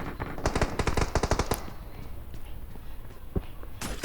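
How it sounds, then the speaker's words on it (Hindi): Rapid automatic gunfire from the PUBG Mobile video game, a fast burst of loud close shots in the first second and a half, then scattered single shots and lighter game noise. "अब यहाँ पे फायर होने लगती है"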